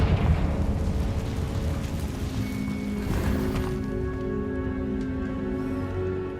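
A Confringo spell explosion in Hogwarts Legacy bursts with a heavy, loud boom, then settles into a long rumbling decay with lingering tonal hum over several seconds.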